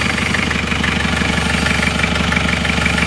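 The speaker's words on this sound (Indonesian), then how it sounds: "Suara mesinnya halus." An Isuzu Panther diesel engine idles steadily up close, with a continuous low, even throb and no other sounds.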